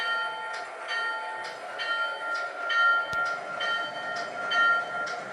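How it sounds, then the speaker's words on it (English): A thin, reedy model train horn sounds in a few short uneven blasts, fairly faint, with a single sharp click partway through. "That horn sounds a lot worse than the other one."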